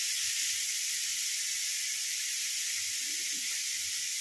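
Constant sizzling hiss of a chicken piece frying in hot oil on a tawa, even and close, with no voices.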